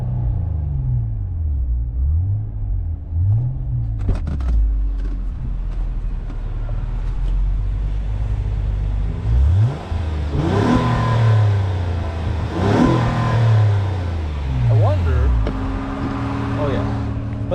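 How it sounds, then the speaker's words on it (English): 2017 Honda Accord Coupe EX-L V6 revved repeatedly while parked, its engine note climbing and falling in several loud throttle blips over a steady idle rumble, with brief talk in the background. "let's see if you guys can give it a little bit of a rev"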